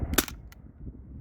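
A Sabre 68 launcher fires a single round over a chronograph on a warm day, a sharp close pop with a short burst of air, followed by a fainter click and quiet background.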